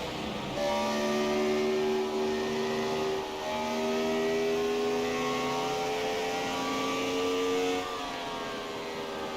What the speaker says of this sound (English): These ARCA cars, man, I love the sound of these cars. Getting a full throttle.